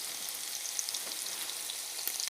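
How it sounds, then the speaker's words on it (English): Beefsteak frying in a pan, a soft continuous sizzle with faint crackles, close and alone. "The beef is cooking."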